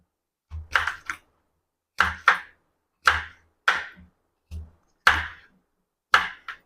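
Cassava root (tapioca, maravalli kilangu) is chopped into pieces on a board with a knife, giving sharp, close chops in pairs and singles at a steady, unhurried rhythm, separated by short silences.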